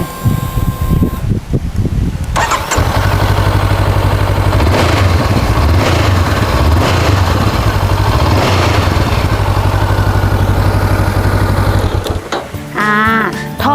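A 2019 Honda CBR500R parallel-twin motorcycle idles close by with a steady, loud mechanical rumble and light clatter, a brief blip near the start, and no talking over it.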